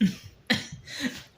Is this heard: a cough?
yes